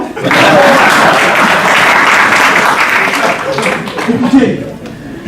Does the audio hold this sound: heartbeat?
no